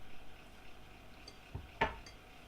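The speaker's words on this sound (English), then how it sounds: "just scraping down to the bottom just in case there are any lovely bits lurking" Cake batter containing syrup and tamarind is scraped from the bottom of a bowl, a soft quiet background followed by two short scraping clinks of a utensil against the bowl.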